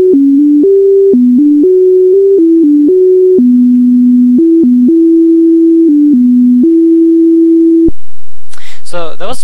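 A simple melody composed by a neural network plays back as pure electronic beeps, a run of steady sine-like notes stepping between a few pitches like an old ringtone, loud and alone. It ends in a brief burst of higher chirps.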